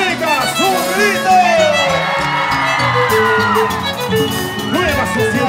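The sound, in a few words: crowd of girls shouting and cheering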